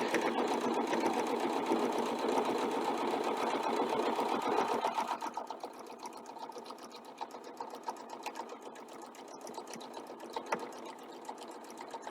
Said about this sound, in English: Press our foot down, needle down. And let's sew the 1-inch strip.